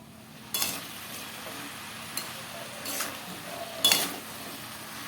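Greens and shrimp being stirred in a pan, with scattered scrapes and sizzling bursts over a low steady frying hiss.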